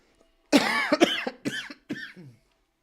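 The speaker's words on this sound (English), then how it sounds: "Sorry, I'm coughing so much." A woman gives a burst of harsh, close coughs during a livestream, four rough hacks over about two seconds, the first longest and loudest, the later ones shorter and fading, with no talk around them.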